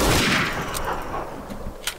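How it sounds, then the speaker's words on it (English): Sniper rifle gunfire in the video game Garry's Mod: a few sharp, loud shots crack out at irregular intervals against a noisy backdrop, each burst short and punchy. "Okay, better weapon. Sniper rifles."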